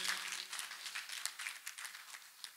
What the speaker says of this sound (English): Let us clap for Master Jesus once again.